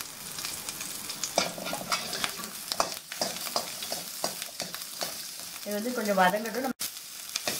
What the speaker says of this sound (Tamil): வெங்காயம், பூண்டு இதெல்லாம் சேர்த்து கொஞ்சம் லைட்டா வதக்கிக்கலாம்.